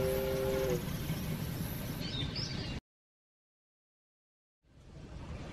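Rumbling train noise with a high whine and a brief whistle-like tone, cutting to silence for a couple of seconds before the rumble returns.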